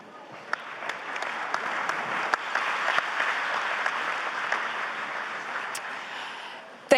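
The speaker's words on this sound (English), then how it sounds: "we can hear from the applause" Sustained audience applause fills a conference plenary hall, a dense steady clatter of many hands lasting throughout with a few sharper claps standing out, and no voices over it.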